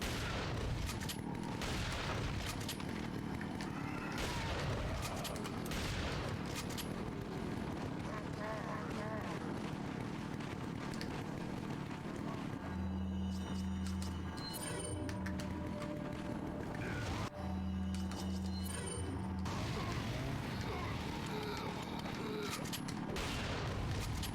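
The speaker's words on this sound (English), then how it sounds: "they changed the shotgun sound effect too" Shotgun blasts from the Resident Evil 4 demo, a few heavy booming shots rising over game ambience while a person talks intermittently throughout.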